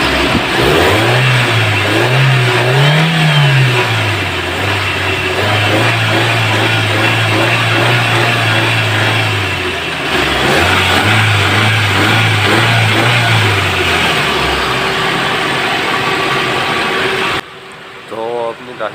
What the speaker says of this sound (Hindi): अब गाड़ी को स्टार्ट करके देखते हैं कि गाड़ी के अंदर क्या मसला आ रहा है